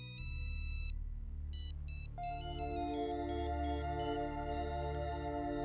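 A phone rings with a melodic electronic ringtone, steady and loud, its bright tonal pattern repeating in short bursts with no voices over it.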